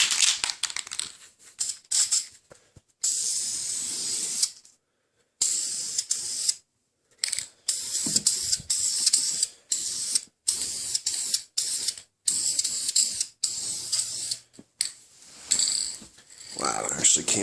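Bursts of aerosol spray as high-heat enamel goes onto MK4 Jetta projector headlights, a close hiss in repeated short and long passes with brief pauses between.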